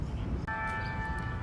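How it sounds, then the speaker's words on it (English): Church bells ring in Balboa Park, San Diego, a sustained, steady metallic tone that starts partway through and rings on evenly over outdoor background noise. "Oh, you need to hear the bells."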